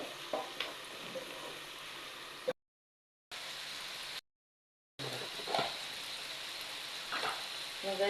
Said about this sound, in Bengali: দেখুন পেঁয়াজগুলো ভালো করে ভেজে নিচ্ছি